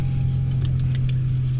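A car engine idling right after being jumpstarted, giving a deep, steady, throaty rumble close by, with a few faint clicks over it.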